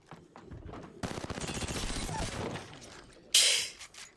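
Gunfire in the Apex Legends video game: a dense stretch of rapid automatic shots rattles close and loud, followed after a short lull by one sharp, bright crack, with a voice faintly present near the start.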